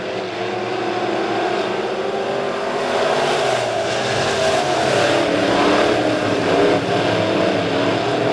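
A Midwest modified race car accelerates on the dirt oval at Springfield Raceway, its engine roaring steadily amid the drone of other cars circling the track, loud and continuous throughout.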